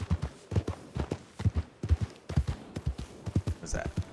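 Horse hooves clip-clop at a steady walking rhythm in the Red Dead Redemption 2 video game, fairly close and moderately loud, with a voice talking over parts of it.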